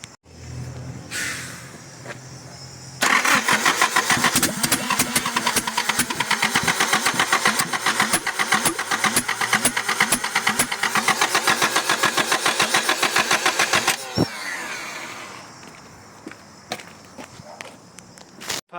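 A Nissan S12 Silvia engine cranks briefly, then catches and runs roughly with loud, uneven, rapid firing pulses for about ten seconds before cutting out, followed by quieter clunks and movement.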